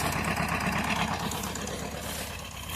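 A vehicle engine revs hard as an old man drives toward a cut through the forest, loud and close with a steady throbbing roar that eases slightly toward the end.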